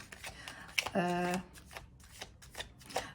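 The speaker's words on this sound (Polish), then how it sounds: "Także e, zaczynam rozkładać karty" Tarot cards are shuffled in a quick riffle with a buzzing run of flicks, then dealt out in soft, scattered taps and slides close by, with someone talking over parts of it.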